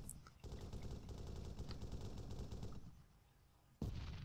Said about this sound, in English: He's under quite a heavy fire